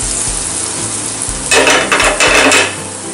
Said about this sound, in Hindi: 1 टेबलस्पून डालेंगे इस पे बारीक कटी हुई ये अदरक जिंजर और गार्लिक 1-1 टेबलस्पून, फाइनली चॉप किया हुआ एक बार चला लेंगे